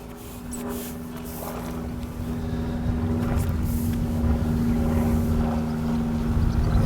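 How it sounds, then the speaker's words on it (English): Steady engine drone of an aeroplane passing overhead above a carp fishing spot by the water, a sustained low hum that swells slightly louder over the seconds with no talking. "This aeroplane."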